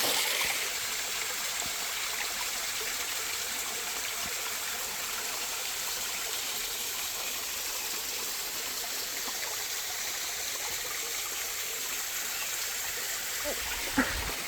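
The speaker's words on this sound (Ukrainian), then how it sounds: "Тут вода збирається. Отак тече, тече, тече, тече. А потім оп, і водоспад виходить у нас." A small waterfall among rocks near Zhytomyr, Ukraine, pours in a steady, dense rush of flowing water that stays even and close throughout, with a faint knock near the end and no voices.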